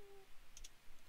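Two quick high clicks, close together, from a musket being loaded in a Minecraft weapons mod, quiet and alone against a faint background.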